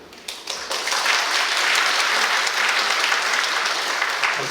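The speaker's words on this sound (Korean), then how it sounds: "박수를 쳐주시기 감사합니다" Audience applause at a ceremony marking 35 years of social welfare civil servant appointments fills the hall, rising quickly after a few early claps and holding steady and dense until fading near the end.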